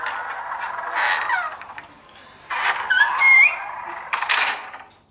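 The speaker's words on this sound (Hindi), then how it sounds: "ये खोला दरवाजा।" A door creaks open in a horror video game, a drawn-out squeaky creak in several bursts with pauses, set against an ambient game background and heard alone without talk.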